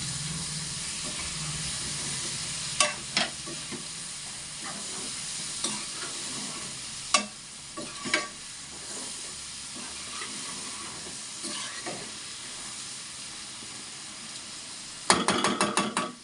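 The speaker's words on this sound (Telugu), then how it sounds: "టమాటా ముక్కలు వేసేసుకున్నాం దీంట్లో ఓకేనా ఇప్పుడు తిప్పుకున్నాం" Tomato pieces sizzle in a curry in the pan, a continuous frying hiss broken by several sharp scrapes and clinks of stirring, with a rapid rattling burst near the end.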